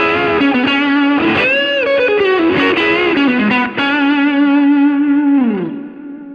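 Electric guitar on its neck pickup through a Strymon Iridium set to its Texas amp voice, playing a sustained, bending lead line with a chorus-like shimmer and light drive, loud and close, with no talking.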